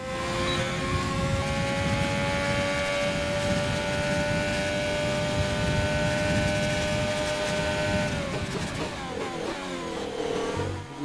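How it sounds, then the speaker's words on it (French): A Toyota car engine in the video game F1 2020 revs hard and continuously, a loud, high-pitched sustained whine that shifts near the end as the car slows. "vous l'avez entendu, on a un nouveau moteur dans cette Toyota"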